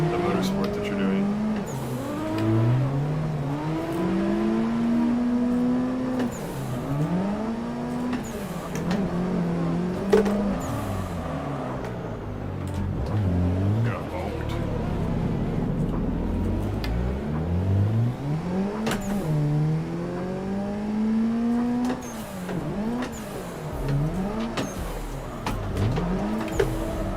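Engine note of a drift car in the Assetto Corsa driving sim, revving up and down in constant rising and falling sweeps with tire squeal through a steady loud stretch; a voice speaks intermittently over it.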